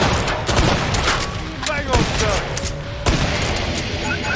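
Gunfire from weapons in the video game Killing Floor 2 pops steadily through a busy mix of game sound and music, with a voice talking over it.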